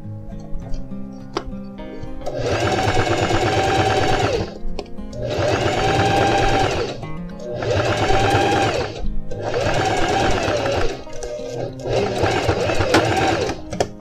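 A sewing machine stitches the side seam of a pair of jeans in five sustained close bursts of rapid mechanical whirring, with brief pauses between runs and faint handling noises.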